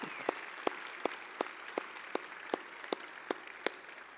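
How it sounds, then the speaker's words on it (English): Audience clapping at a university athletics Hall of Fame ceremony, heard as faint, evenly spaced single claps about every third of a second over a soft hiss, with no dense crowd roar. "So let's give another big round of applause to Perdita Felicien."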